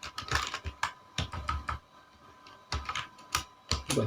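Fingers typing on a computer keyboard while coding HTML, quick irregular bursts of close key clicks with short pauses between runs.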